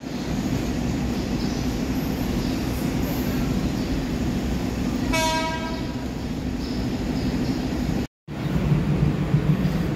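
A steady rumble of the Argo Semeru passenger train fills the air at a station platform, track 4, with a brief horn-like tone in the middle and continuous mechanical noise throughout.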